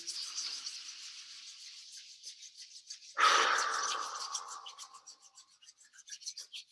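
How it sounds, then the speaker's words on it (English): Two palms rub together in a brisk, close swish lasting about two seconds, set between soft rhythmic breathing sounds during a calm gesture exercise. "And then rubbing the palms together, continuing to breathe."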